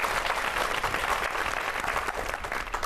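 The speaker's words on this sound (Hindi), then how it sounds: "जरा एक बार जोरदार तालियां आदरणीय करुण" Sustained, loud applause from an audience at a Hindi poetry recital honouring the poet Karun, a dense steady wash of many hands clapping without pause and no talking.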